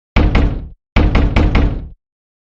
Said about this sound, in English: Who could be banging on my door like that?